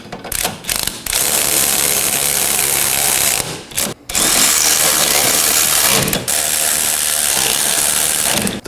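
Ratchet and socket snugging up CV axle bolts on a 2018-2024 Chevrolet Equinox 1.5L: loud, sustained rapid mechanical ratcheting in long runs, broken by brief pauses, with no voices.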